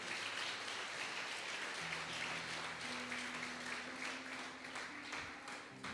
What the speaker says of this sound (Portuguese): E você aplauda o nome do Senhor.